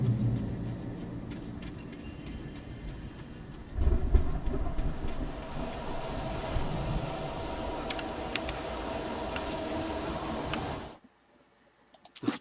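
A storm of heavy rain and rumbling thunder in the Alan Wake video game: a dense, steady wash of noise that surges louder partway through, then cuts abruptly to near-silence near the end.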